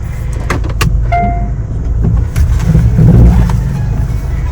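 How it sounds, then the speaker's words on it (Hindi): A car engine runs steadily at idle with a low rumble, with a short whine like a power window and a few clicks, then the engine swells slightly as if pulling away; no talk. "चल भाई स्टार्ट हो जा गड्डी"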